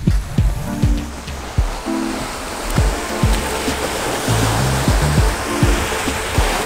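Waves wash onto the beach at Viareggio, Italy, a loud, broad surf roar rolling steadily with repeated low thuds and knocks, likely wind or handling, scattered across it.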